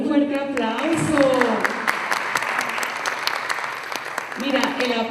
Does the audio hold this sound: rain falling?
no